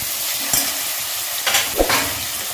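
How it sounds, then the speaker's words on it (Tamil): Onions and curry leaves fry in a pan for a duck curry, a steady close sizzle broken by a few scraping stirs of a spoon against the pan, with no voices. "வெங்காயம் நல்லா ஃப்ரை பண்ணுங்க"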